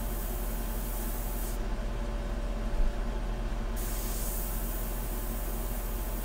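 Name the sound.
airbrush spraying India ink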